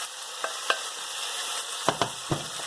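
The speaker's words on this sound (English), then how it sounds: "once the onions are pretty much cooked, we're going to put in our tofu. So we're just going to dump it in a lot" Tofu frying in a pan with cooked-down onions: a low, even sizzle with a handful of crisp scraping knocks from a utensil, clustered near the end, and no voices.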